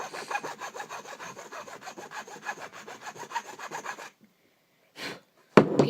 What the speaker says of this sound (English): You just keep sanding each one down until you get a nice